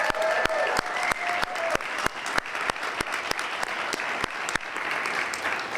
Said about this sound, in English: Let's have a final round of applause for all our awardees